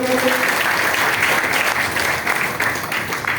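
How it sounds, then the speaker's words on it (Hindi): Loud, dense audience applause fills a presentation hall in India, continuous clapping from a sizable crowd lasting a few seconds, with faint voices beneath. "एक बार जोरदार तालियां"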